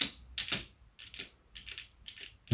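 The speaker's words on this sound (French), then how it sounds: "Il suffit de sélectionner et taper la touche d'espace." Space bar and keys on a computer keyboard clack in quick close taps, a short burst of a few clicks in a quiet room without talking.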